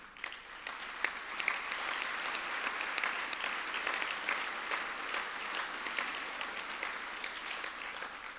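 A large audience claps steadily through an honorary degree ceremony in 2019, the applause building slightly and holding as an even, dense roar of hands before tapering near the end.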